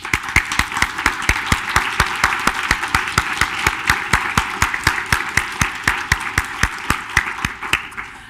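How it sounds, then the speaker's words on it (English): An audience at a university food literacy talk claps in a steady, rhythmic applause for community members, sharp evenly spaced claps that carry on for about eight seconds and fade slightly near the end. "can we give a rousing round of applause for the community members?"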